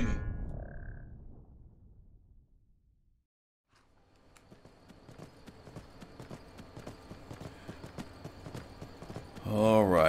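Horse hooves clip-clop in Skyrim on the way to Whiterun, a rapid, steady rhythm of moderately loud hoofbeats that starts after a quiet stretch and runs to the end.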